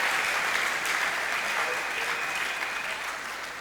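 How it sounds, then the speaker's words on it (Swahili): Church congregation applauding the Lord: dense, sustained clapping from a crowd, fairly close and loud, with a voice faintly heard under the applause. "Banaume tumpikie Bwana makofi"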